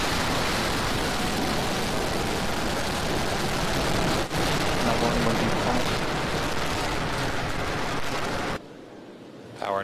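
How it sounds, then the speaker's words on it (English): A SpaceX Falcon 9 lifting off at launch fills the air with a massive, continuous broadband roar and crackle that holds steady for most of the stretch before cutting abruptly near the end. "Ignition, liftoff. Carpe diem, Dragon 1. Vehicle is pushing downrange."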